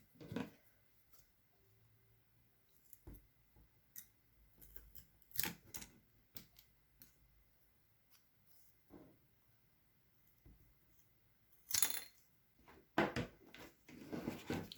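Pre-painted wooden coffee stir sticks are cut for a miniature cottage chair, heard as sparse, sharp snipping clicks in short bursts over a quiet background.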